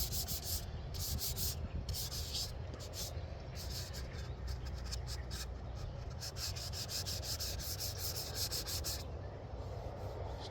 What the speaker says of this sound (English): We're wet sanding, so I don't want to get down to the cardboard.